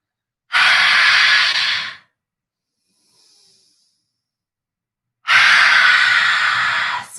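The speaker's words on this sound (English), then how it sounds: "Breathe here. Let some of that heat go. Big exhale out." Two long, loud, breathy exhales during a home strength and mobility workout, each forced out for over a second like fogging a window, separated by a quiet gap and close to the microphone.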